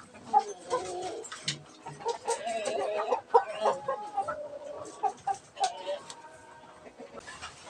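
Chickens and young roosters in a coop give soft, irregular clucks and short calls that overlap and come and go quietly at a moderate distance.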